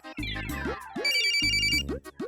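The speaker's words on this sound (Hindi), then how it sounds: "हमारे बाबूजी का फोन आ गया।" A loud mobile phone ringtone plays a bright, repeating electronic melody with chiming tones over a pulsing low beat, filling the whole short stretch without any talking.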